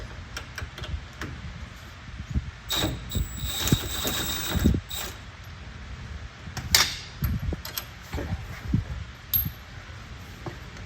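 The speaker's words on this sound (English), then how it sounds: "We're going to go ahead and take our lug nuts off real quick." Lug nuts being loosened from a car wheel with a ratchet, irregular clicking and mechanical rattles scattered across the stretch with a few louder bursts, close by and with no talking.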